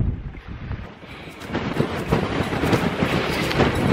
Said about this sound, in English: Finally made it! It's very windy!